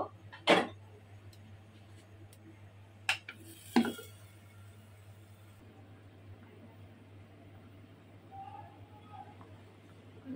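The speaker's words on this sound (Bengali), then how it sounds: "এখন ঢাকনাটা দিয়ে দেব" A lid is set onto a pot of simmering vegetarian pea lentils (matar dal) on a home stove, giving a few sharp metallic clanks close by, followed by a quieter bubbling hush.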